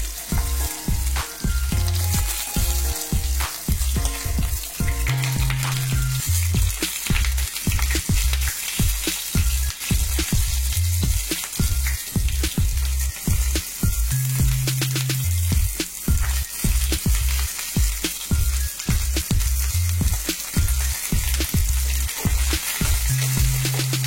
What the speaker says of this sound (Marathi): एक 2 मिनिटं आपलं हे वांग तेलावरती चांगलं भाजल्यानंतर